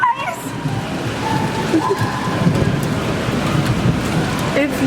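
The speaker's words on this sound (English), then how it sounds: "It's still raining." Steady rain pours at Universal Studios amusement park, a dense, close hiss that continues throughout, with faint voices in the background.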